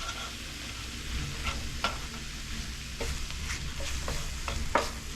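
A flour-thickened sauce sizzles in a chicken skillet while a utensil stirs and scrapes, giving a steady frying hiss with irregular sharp scrape strokes, close up and free of talk.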